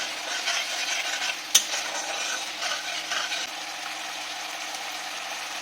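A ground coriander-cumin spice paste fries in a pan, a steady soft sizzle with scraping stirs and one sharp clink of the spoon, moderately loud and without talk.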